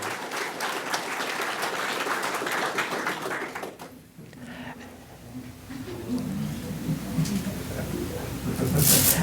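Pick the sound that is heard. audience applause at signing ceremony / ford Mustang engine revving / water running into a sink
audience applause at signing ceremony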